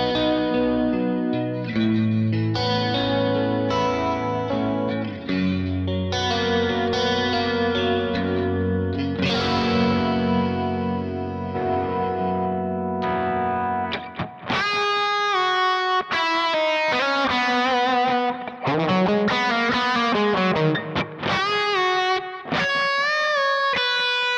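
An electric guitar played through a Kemper with two single-coil pickups out of phase plays a continuous melodic passage of chords and single notes, bright and thin-toned, with chorus-like shimmer.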